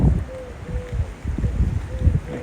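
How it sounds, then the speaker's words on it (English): Steady wind buffets the microphone in low rumbling gusts on an overcast Barbados beach, with a faint tonal whistle drifting in and out. "Quite windy on the beach this morning."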